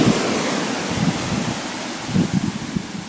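Sea water washing up on a French beach, a continuous rushing surge with low thumps as waves break nearby, mixed with wind buffeting the microphone.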